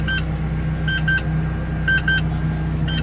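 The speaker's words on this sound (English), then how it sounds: "The beeping stops, and I'm ready to go." A Case 221F loader beeps with short high electronic tones in quick pairs while swapping accessories, repeating at regular intervals over a steady low engine rumble.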